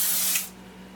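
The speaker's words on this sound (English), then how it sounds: "and it's aerosol" A brief burst of aerosol body spray hisses loud and close for about half a second, then cuts off.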